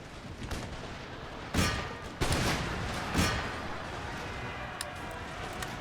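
Volleys of gunfire crackle in the Imperial Destroyer war game, a few distinct loud bursts standing out over a dense, continuous backdrop of distant shooting and rumble.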